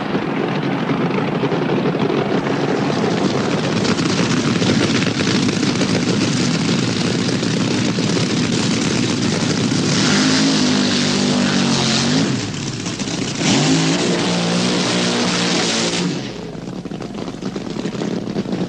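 Drag racing cars at Santa Pod raceway in 1976, roaring through burnouts and revving hard. A loud, continuous engine blare fills the clip, with rising and falling pitch sweeps in the middle before the noise drops slightly near the end.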